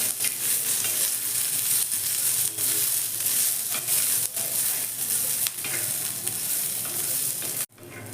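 Peanuts and garlic cloves roast with green chillies in a pan for spicy chilli thecha, giving a loud, continuous close sizzle with light stirring scrapes throughout and no talking.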